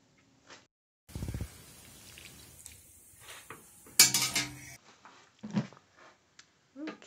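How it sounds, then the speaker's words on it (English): Farfalle pasta stirred into homemade Genoese-style tomato sauce in a pan, heard as scattered clinks and scrapes of utensil on metal with wet stirring, quiet and close, with brief talk in between. "we're going to go ahead and mix that sauce in"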